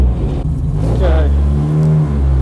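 A front-wheel-drive race car rolls out through the pits on its out lap, its engine a steady low rumble close by with a brief rev, and a voice speaks over it.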